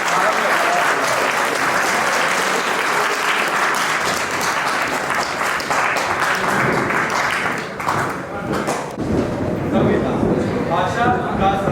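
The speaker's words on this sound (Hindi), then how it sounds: "तालियों से सबका स्वागत करते हुए" Sustained audience applause at a school Hindi elocution competition for classes 9 to 10 at St Joseph's College, Nainital: dense, steady clapping from a large crowd filling the whole stretch, loud and continuous.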